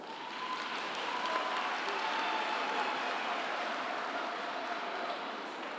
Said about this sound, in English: I think we can give them a collective round of applause.